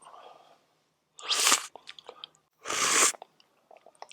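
Close chewing of camp-cooked food seasoned with black pepper during a solo campout, two loud crunchy bursts with softer smacking bites between them.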